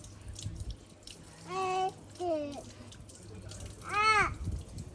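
Water flows steadily in the background at the Bothongo Rhino & Lion Nature Reserve in South Africa, while voices talk over it.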